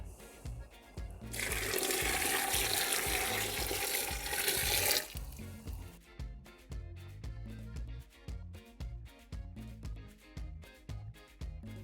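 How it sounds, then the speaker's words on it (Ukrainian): Boiling marinade poured from a pot over plums in a jar makes a loud, steady liquid rush for about three seconds, then stops, leaving faint clinks and handling sounds. "Маринад закипів і заливаю ним сливи."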